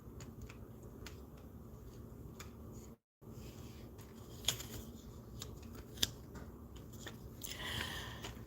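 Tarot cards being shuffled and rearranged by hand make quiet, close rustles and soft slaps, broken by a brief pause and a couple of sharper snaps of the deck.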